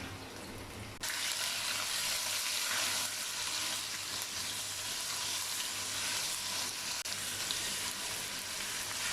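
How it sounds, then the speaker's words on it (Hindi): Ginger garlic paste and white cumin fry in a pan for spicy chicken biryani, giving a steady, fairly quiet sizzle that starts abruptly and continues evenly without talk. "अदरक लहसुन पेस्ट और सफ़ेद ज़ीरा, इसे 1 से 2 मिनट के लिए भूनेंगे।"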